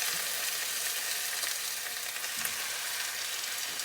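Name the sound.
chicken thighs frying in very hot oil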